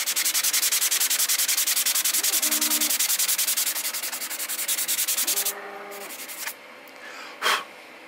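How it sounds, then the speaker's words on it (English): A sanding sponge roughs up one side of a shiny 1/35 scale concrete wall sample piece, giving steady, rapid, scratchy rubbing for about five seconds before stopping, followed by a few faint handling sounds. "I'm going to take a sanding sponge, and I'm just going to rough up one side of it."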